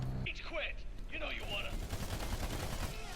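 Rapid gunfire crackles in the shooter video game Battleborn, dense bursts layered under excited voices talking over the action.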